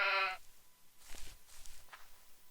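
A brief, high-pitched bleat from a cyan sheep in the Minetest farming game opens, followed by soft scuffing footsteps and small ambient game noises.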